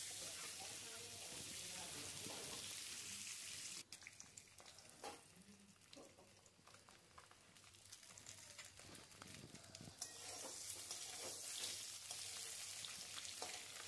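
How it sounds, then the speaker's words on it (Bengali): Eggs frying in oil with salt and turmeric in a wok, a loud continuous sizzle that briefly dips and crackles as the eggs settle, then swells again, close by with no talk. "এবার ডিমগুলো দিয়ে একটু কিন্তু আমরা ডিমটা ভেজে নেব"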